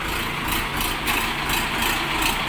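A Jinma 244 mini tractor engine idling close by, a steady, loud diesel chug with an even pulsing rhythm throughout and no voices.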